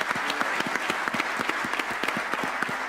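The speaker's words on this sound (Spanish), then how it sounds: "Por favor, un aplauso para todos ellos." An audience applauds a panel at the end of a session, with steady dense clapping that carries close and loud for the whole stretch, and individual claps stand out rhythmically.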